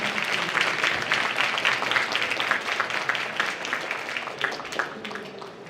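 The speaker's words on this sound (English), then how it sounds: "Please give a big applause again, please." Audience applause at a Slush Tokyo 2019 session: dense, steady clapping from a crowd that holds strong for several seconds, then thins slightly toward the end.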